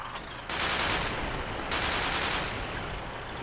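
Artillery fires in the Project Reality game as a dense, sustained roar of rapid overlapping blasts that comes in two long bursts, heavy and close.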